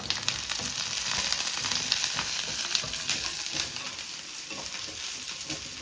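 Mushroom biryani masala fries in a pan, a close, steady crackling sizzle with light stirring scrapes throughout.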